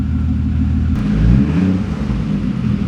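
A Toyota MK3 Supra idles after its CPS and MAF plugs were changed, producing a steady, close, low engine rumble with a slight swell in the middle and no other sounds.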